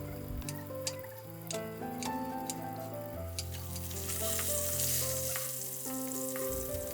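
Pieces of rohu fish fry in oil over a low flame, giving a continuous close sizzle with crackling pops throughout, joined by brief utensil ticks and tonal background music.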